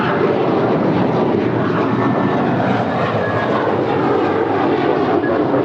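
Airliner taking off from runway 25 right at LAX, its jet engines roaring as a loud, steady broadband rumble and hiss that holds through the whole stretch.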